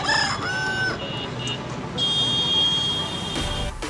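Roosters crow at a busy Purulia rooster market, with several loud crowing calls and clucks from nearby birds over constant crowd noise and a continuous high electronic tone.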